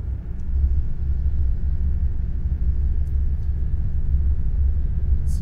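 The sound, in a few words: Scania S730 truck engine in video game Euro Truck Simulator 2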